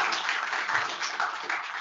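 Applause from a conference audience after an IETF talk, a brief, steady patter of many hands heard at moderate distance in a hall.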